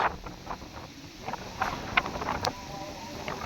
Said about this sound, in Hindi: इस वक्त ये देखें सामने फुल बारिश हो रही है और बहुत तेज़ हवा चल रही है।